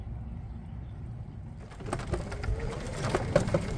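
Pigeons or doves coo at a bird sanctuary beside a golf cart path, soft repeated calls rising over a steady rattling, clattering background that starts partway through and continues to the end.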